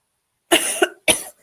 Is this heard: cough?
yes